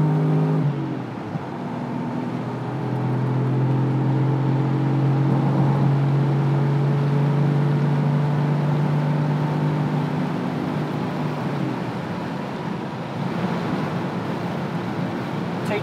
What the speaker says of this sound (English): There's that second turbo.